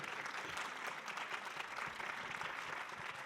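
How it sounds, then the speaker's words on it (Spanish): An audience at a book fair in Mexico applauds steadily and evenly throughout, a dense crowd clapping at moderate distance with no break. "Un aplauso para María Celeste"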